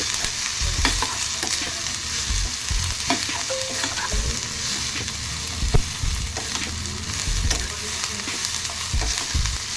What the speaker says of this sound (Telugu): ఇది బాగా ఫ్రై అయినాక మాకు లైట్గా ఫ్రై అవుతుంది కదా